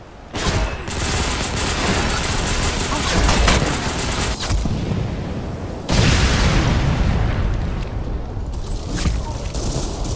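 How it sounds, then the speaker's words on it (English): Grenade explosion in Ghost Recon Phantoms, a loud booming blast amid heavy continuous gunfire, with a second sudden burst partway through and voices talking under the battle. "They got a grenade at us."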